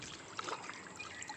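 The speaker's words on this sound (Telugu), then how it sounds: "ఇది 5 లీటర్ వాటర్ అండి, ఇందులో పోస్తాను." Water poured into a 5-litre container in a rooftop garden, a faint, brief trickle and dribble with a few soft splashes, heard alone with no talk.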